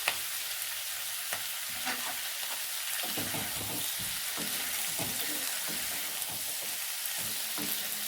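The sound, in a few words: stir-frying onion and capsicum in a wok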